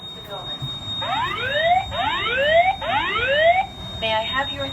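A building fire alarm system under test sounds repeated rising electronic whoop sweeps, three loud cycles in a row, then a faster pulsing tone near the end, steady and fairly close with a faint voice underneath.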